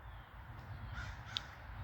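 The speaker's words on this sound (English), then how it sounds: "oh, there are crows" Crows cawing outdoors in the early morning, a few harsh calls fairly close over steady low background rumble, with one sharper call standing out near the end.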